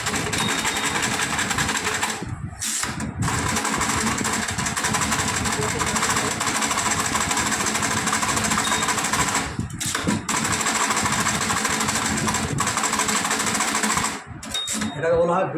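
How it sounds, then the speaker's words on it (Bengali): An electronic Braille writing machine runs with a dense, continuous buzzing mechanical chatter, loud and steady with a few brief pauses, while a voice talks over it. "এটাকে বলা হয় ব্রেলার মেশিন।"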